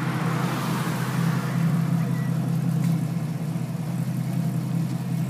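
A 1969 Camaro pro touring car idles with a steady, low, rumbling engine hum heard up close throughout, with no talk over it.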